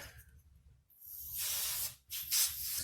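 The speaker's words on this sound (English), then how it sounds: "Then a little bit of electrical parts cleaner in the connector." Electrical parts cleaner sprays in short hissing bursts into an ignition coil connector during spark plug work on a 2009 Pontiac Vibe 1.8L, two or three close aerosol blasts separated by brief pauses.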